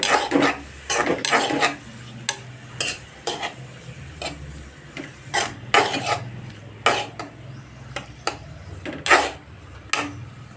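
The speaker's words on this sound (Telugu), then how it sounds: "ఆయిల్ హీట్ అయ్యాక నేనైతే ఆనియన్స్, పచ్చిమిర్చి వేయించుకుంటాను." Onions and green chillies frying in hot oil for a potato curry, with a utensil stirring and scraping the pan in repeated irregular strokes over a soft continuous sizzle, close up and with no talking.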